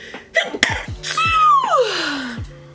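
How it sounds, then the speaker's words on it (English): A single sharp human sneeze erupts at close range, preceded by quick breathy intakes and followed by a drawn-out falling vocal tail, in a quiet indoor room. "I'm gonna sneeze."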